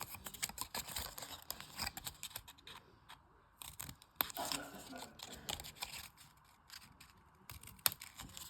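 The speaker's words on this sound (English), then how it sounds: "I just like to cut a little triangle" Scissors snipping a small triangular corner off paper while assembling a 3x3 mini album, a few quick crisp cuts and rustles, faint and close, with soft talk in between.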